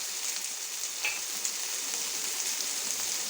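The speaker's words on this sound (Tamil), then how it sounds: "கொஞ்சம் பூண்டு வெங்காயம் நல்லா போட்டு வதக்கிட்டுக்கிறாங்க." Garlic, onion, cinnamon and cloves sauté in a pan for an egg curry, a close, even crackling sizzle with a brief sharper pop, no voices.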